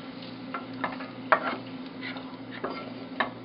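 Cashew nuts roasting in ghee on a non-stick tawa, with a soft steady sizzle and scattered stirring clicks and scrapes spread irregularly throughout.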